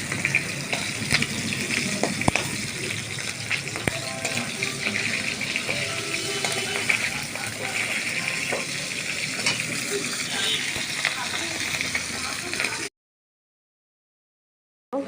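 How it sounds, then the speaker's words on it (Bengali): Food frying lightly in a pan gives a steady, close sizzle with faint stirring scrapes for about thirteen seconds, then cuts to silence. "বেশি কড়া ভাজার দরকার নেই, হালকা করে একটু ভেজে তুলে নেব।"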